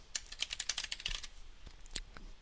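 Quick, close taps on a keyboard as a note is entered on a device, a rapid burst of keystrokes followed by a few slower, scattered presses.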